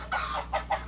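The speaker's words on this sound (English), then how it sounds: "So you hear the chickens at the back" Chickens cluck in several short bursts close behind an aquaponics system, forming a brief run of near, fairly loud calls with small gaps between them.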